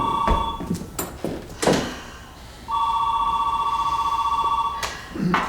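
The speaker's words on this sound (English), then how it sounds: "Oh, the phone's ringing." A telephone rings with a steady electronic warbling tone, one long sustained ring following a few knocks and thumps, fairly loud and close.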